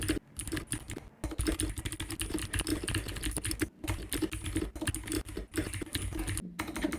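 Fingers type continuously on a computer keyboard, rapid quiet clicks in bursts with a few brief pauses, close and soft.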